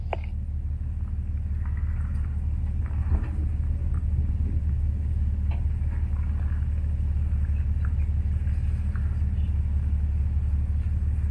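A convoy of overlanding vehicles, Jeeps among them, drives along a road toward Cape Clear, giving a steady, loud low engine rumble and road drone that holds evenly throughout with no voices.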